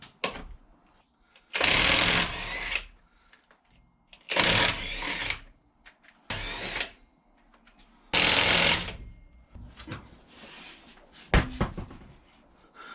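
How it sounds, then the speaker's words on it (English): Bursts of a power tool, likely an impact wrench, working loose the wheel on a Triumph TR7 with faulty rear suspension, in four loud runs of about a second each separated by quiet gaps and some clanks. "So first things first, I've got to take the wheel back off again."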